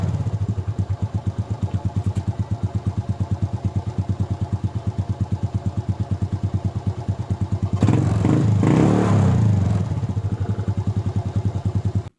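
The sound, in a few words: motorcycle engine idling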